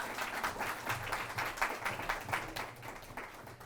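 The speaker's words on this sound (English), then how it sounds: "Let's hear a round of applause for her." Audience applause at a community event, steady moderately distant clapping throughout with a faint low hum beneath.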